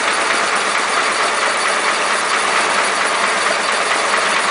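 An air compressor with a supercharger pulley and no belt guard idles on tick over after work, giving a steady, loud, unbroken mechanical hum and hiss with a fine rapid flutter, running alone without any talk.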